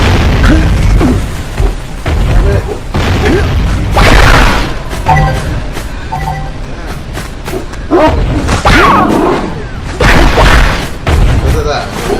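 Bomb egg blowing up in the PS4 Jak and Daxter: The Precursor Legacy game, heavy booming bursts repeating several times over a game soundtrack, loud and close.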